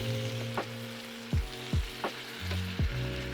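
Red peppers and tomatoes fry in a seafood paella pan with a steady sizzle, broken by several sharp thumps and scrapes of a utensil at irregular intervals, close and moderately loud with no talking.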